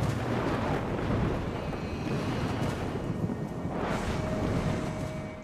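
Steady broadband roar of a violent thunderstorm over the intertropical convergence zone, heavy rain and wind rumbling continuously with a swelling gust near the end, loud and unbroken with no voices.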